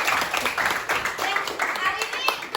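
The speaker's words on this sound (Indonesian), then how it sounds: "Tepuk tangan dulu dong." An audience claps hands at a school best-practice session, a brief burst of close, uneven claps lasting a couple of seconds, with voices heard over it.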